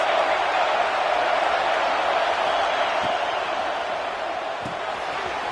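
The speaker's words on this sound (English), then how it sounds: "This crowd trying to make life miserable for this offense." A packed stadium crowd at an Ohio State versus Oregon college football game sends up a sustained, distant roar that fades slightly toward the end, with no clear voice above it.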